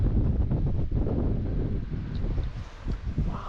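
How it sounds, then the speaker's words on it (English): Strong wind in open Scottish countryside buffets the microphone in heavy low rumbling gusts, loud and continuous throughout. "Wow, it's super windy out here"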